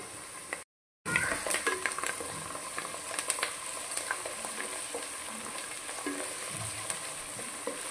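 Mutton fry sizzling in a pan with ginger garlic paste, curry leaves and onions, a steady dense crackle with occasional stirring scrapes, briefly cut to silence near the start, with no voices.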